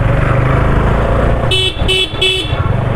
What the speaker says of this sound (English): the horns are also very nice